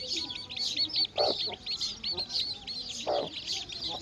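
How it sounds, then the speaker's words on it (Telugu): A Bhimavaram breed hen clucks in low, repeated bursts while her chicks keep up a steady, shrill peeping close by. "మా కోడి పెట్ట, మా కోడి పిల్లలు ఎలా ఉన్నాయో కామెంట్స్ పెట్టండి ఫ్రెండ్స్."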